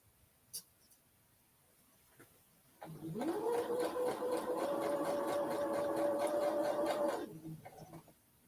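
A sewing machine sews a seam in one continuous run of about four seconds, a close, even motor whir with rapid rhythmic clatter of the needle, preceded and followed by quiet handling clicks.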